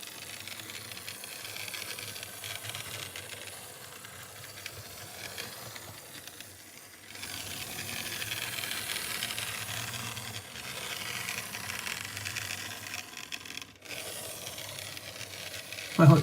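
A Lima HO scale Swiss SBB diesel model locomotive runs on 12 volt DC, giving off a steady, rough, raspy whirring hiss that continues throughout with a slight surge partway, close and moderately loud.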